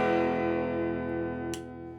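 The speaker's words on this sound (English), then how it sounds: "this is the bridge or the neck pickup without the split, right? Full humbucker mode." An EART TL-380 electric guitar played clean through its neck pickup in full humbucker mode lets a sustained chord ring warmly and slowly decay, with a brief string or pick scrape partway through.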